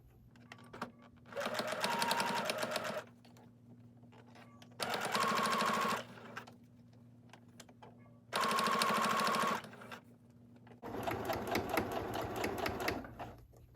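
A sewing machine stitches ruffles in four rapid bursts of a few seconds each, separated by pauses with a low steady hum, heard close and clearly with no talking.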